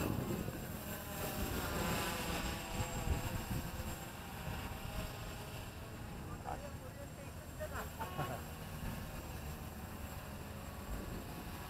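An RCtimer Spider 450 multicopter modified to a Y6 layout hovers and flies with a steady, faint motor whine and rotor hum throughout, while people chat nearby.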